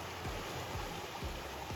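The Midda River in the Snowy Mountains and Gippsland region rushes fast and full, a constant broadband roar of flowing water with a few low thumps, nearby and steady.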